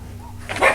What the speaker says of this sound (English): the dogs go nuts over something outside